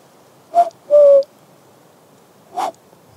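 A person's voice imitates a cuckoo's call outdoors beside a ditch on a wilderness hike at Joutsijärvi, Finland, giving three short, loud, close hooting notes with pauses between them in otherwise quiet surroundings.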